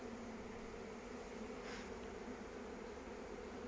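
Bees hum in a steady, continuous drone around an open beehive during a hive inspection in Scotland. The buzz stays faint and even throughout, with no talking.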